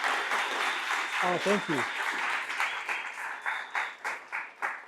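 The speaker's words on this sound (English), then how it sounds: "I want to have a big applause for Chris" A small audience claps to welcome a speaker at a robotics hackathon, thinning to a few distinct claps near the end, with someone talking over the applause.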